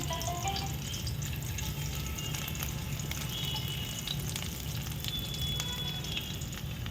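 Five crushed garlic cloves frying in about one and a half teaspoons of oil give a steady, close sizzle with soft crackles that runs unbroken throughout, with no voices.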